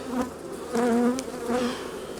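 Honey bees buzz around an open hive box packed with honey frames, a close, steady droning hum that swells in short waves as the bees move about the colony.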